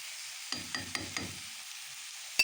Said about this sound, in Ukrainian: Доб'ємося того ефекту, щоб печіночка трошки піджарилася.